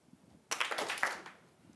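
An audience in a presentation hall answers with a single round of scattered clapping, a brief burst of many hands lasting under a second, moderately near.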